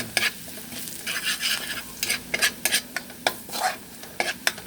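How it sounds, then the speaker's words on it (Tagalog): Sisig sizzles and fries in a pan while a utensil stirs and scrapes it, giving bursts of clatter and stirring at an uneven rhythm, close and fairly quiet. "Ayun ngayon ay magluluto ng sisig."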